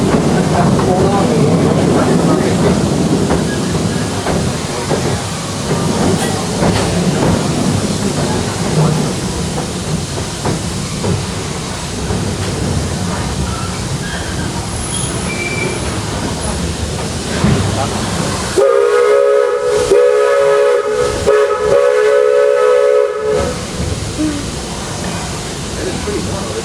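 A train ride at Disney, with a continuous rumble and rattle of the rail cars that carries on throughout and briefly shifts to a squealing, clattering passage near the end.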